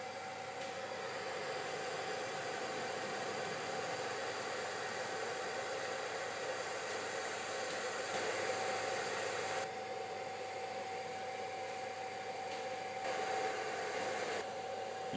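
BIRD 8888 rework station heaters warm a circuit board, producing a steady airy blowing hiss with a faint constant tone, unbroken for about fifteen seconds and fairly quiet.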